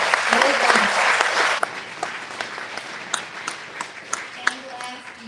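An audience at a community college event bursts into loud, dense applause that thins after a second and a half into scattered, fading claps.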